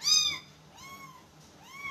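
A small kitten gives three short, high meows spaced evenly, near and clear, with faint background room noise and no talking.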